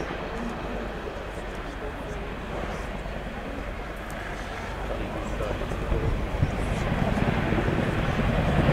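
A Chinook twin-rotor helicopter flies a display at RIAT 2009, giving off a broad, rumbling rotor and engine roar that builds steadily louder toward the end under crowd background.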